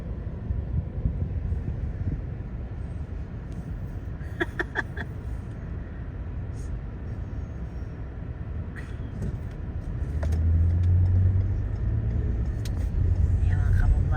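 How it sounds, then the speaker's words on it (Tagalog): Steady road traffic of cars and buses heard from within a vehicle stuck in congestion, a continuous low rumble with wind noise that swells louder near the end. "Na traffic din kami."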